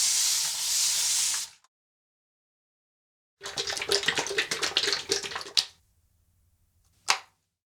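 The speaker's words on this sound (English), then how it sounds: "what I'm gonna do is wash off the alum with cold water" Cold water splashed and rubbed over the face to rinse off alum after a double-edge shave, with a steady running stream first, then a burst of wet splashing and rubbing, and a short final splash, close and fairly quiet.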